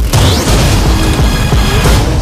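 A loud, heavy boom from a tank in the Fast & Furious 6 trailer lands right at the start, followed by a sustained rumbling crash and whooshing impact that fills the short stretch.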